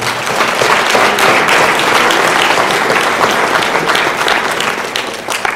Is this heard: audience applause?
yes